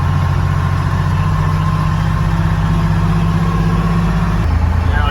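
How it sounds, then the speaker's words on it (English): Detroit Diesel engine of a heavy fire truck droning steadily at a low, throbbing idle while driving, loud and close, with the low rumble dropping slightly near the end. "Heavy fire truck"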